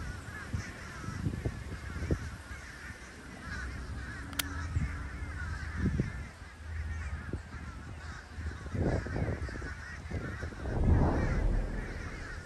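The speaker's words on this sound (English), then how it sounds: "That's a ton of birds." A huge, seemingly endless flock of birds calls over and over, honking and cawing in a steady outdoor chorus with occasional louder cries rising above the din.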